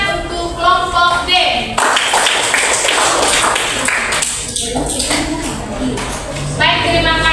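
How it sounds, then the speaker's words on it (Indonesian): Applause for a student group after their classroom presentation: a few seconds of dense, steady clapping from a room of people, framed by a speaking voice just before and after. "tepuk tangan untuk kelompok D"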